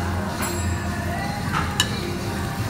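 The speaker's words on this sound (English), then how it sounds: "Sizzling." Food sizzles quietly in a hot pan, a soft steady crackle with a clink of utensils and murmuring voices in the background.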